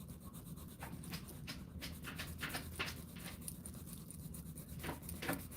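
A dog scratches at a wooden door, making repeated quick rasping strokes in uneven bursts, close and moderately quiet, with a faint background hiss.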